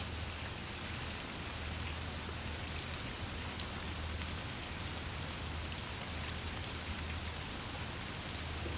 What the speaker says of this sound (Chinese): 听着雨声睡挺舒服的